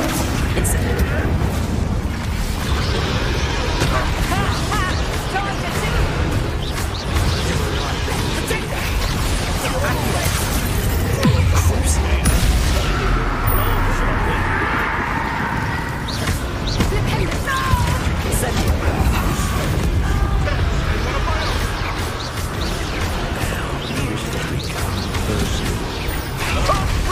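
Spell explosions erupt in a Hogwarts Legacy battle, a dense, loud barrage of booms, crashes and blasts running continuously with voices mixed into the fray.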